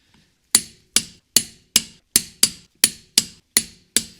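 A Precise Built 2748 torque wrench set to 90 foot-pounds gives ten crisp, evenly spaced clicks, each a sharp snap with a short ringing tail, loud and close with no talking.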